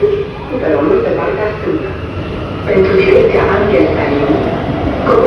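Steady rumble and hum inside a moving metro train in Bucharest, Romania, with a low rolling drone and shifting mechanical tones throughout.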